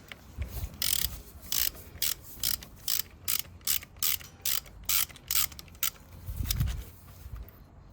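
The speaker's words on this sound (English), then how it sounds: "Grab a 16mm spark plug socket and remove the spark plug" Ratchet on a 16mm spark plug socket removing the spark plug from a Honda Monkey 125, a run of about a dozen crisp, evenly spaced clicking strokes, close and fairly quiet, with a couple of dull bumps.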